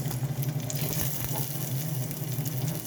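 Onions fry in a pan for adobong sitaw, giving a steady, dense sizzle with soft crackles throughout, close and even, with no voices.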